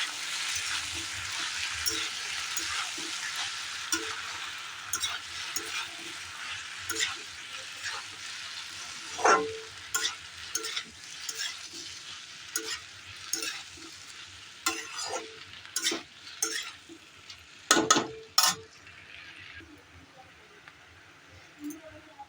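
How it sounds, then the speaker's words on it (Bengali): Sago khichdi is stirred in a frying pan, a soft sizzle fading beneath irregular scraping and clinking strokes of a spoon, with a voice heard faintly. "সাবুটা এবার নাড়াচাড়া করবো"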